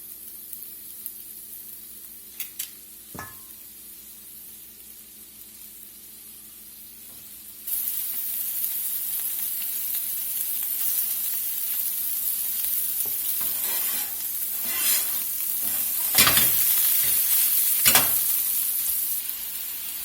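Swedish meatballs dropped into a hot skillet: a quiet pan hiss with a few light taps, then a sudden louder, steady sizzle that swells with bursts of spitting as more meatballs go in.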